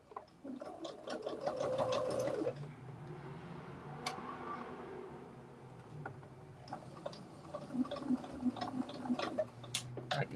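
A sewing machine stitches through thick fabric at a center seam, with a steady, close mechanical whirring and rapid ticking. It stops briefly, then runs again, including backstitching.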